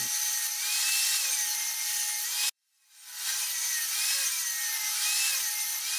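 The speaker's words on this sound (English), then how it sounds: "I just finished cutting the plywood pieces to their correct width." A table saw cutting plywood pieces, a steady high-pitched whine through the wood that cuts out abruptly, then spins back up and keeps going, loud and close with no speech.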